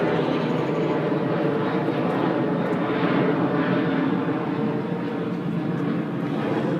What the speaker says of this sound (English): That southwest plane just messed with my video, but he's on the way to Houston right now